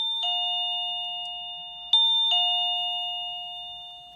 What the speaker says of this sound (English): it's as simple as plugging in the chime to an outlet and pushing the button.